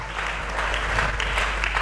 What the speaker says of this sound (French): Est-ce que nous pouvons acclamer très fort pour lui?